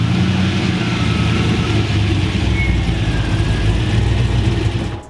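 A Volvo sleeper car's engine roars loudly and steadily from inside the car, a sustained low drone with slight pitch movement that drops off at the very end.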